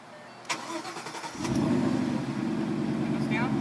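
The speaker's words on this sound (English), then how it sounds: "we're going to start the car, and then we'll put the top up" A 2014 Ford Mustang GT Convertible engine cranks and catches, settling into a loud, steady low idle rumble close by, with a few clicks before it fires.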